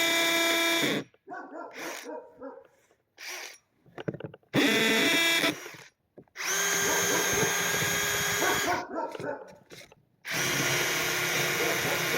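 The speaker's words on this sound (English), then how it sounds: "I'm going to use a regular actual drill" A power drill whines loudly in several long bursts separated by short pauses, with a dog barking intermittently in the gaps.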